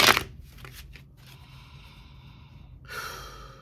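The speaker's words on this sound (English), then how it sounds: "As you can see, I'm shuffling them up." Tarot cards shuffled by hand in a short burst at the start and again near the end, close and fairly quiet, with a near-silent stretch between; no talking.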